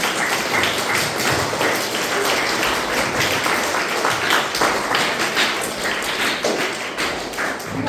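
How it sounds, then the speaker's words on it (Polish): Steady, dense applause from an audience clapping for small children at an art exhibition opening, continuous and fairly close with no break. "I brawa dla małych!"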